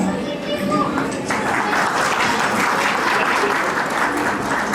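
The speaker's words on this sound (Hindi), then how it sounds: "और एक बार पुनः सर के लिए तालियां बजाएं" An audience at a school farewell and welcome ceremony claps for an honoured guest, a steady crowd applause that carries on for several seconds with children's voices mixed in.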